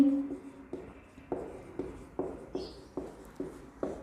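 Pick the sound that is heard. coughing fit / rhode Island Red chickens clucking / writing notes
writing notes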